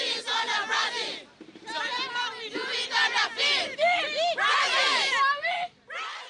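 Brazil's football team is met by a welcoming crowd of fans at their stopped shuttle bus in Papua New Guinea, with loud excited shouting, cheering and high voices overlapping in a dense, continuous burst close by.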